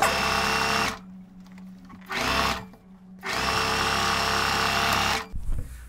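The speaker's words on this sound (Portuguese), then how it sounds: "E aí eu venho aqui e costuro com o pé de sapatilha, retrocesso no início e no final." A sewing machine with a satin-stitch foot stitching a binding strip onto fabric, loud whirring motor bursts separated by quiet pauses, the longest run at the end, close by.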